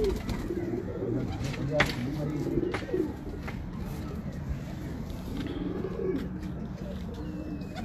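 Breeder pigeons coo steadily in low, rolling calls close by, with a few brighter chirps and a faint murmur of background noise throughout.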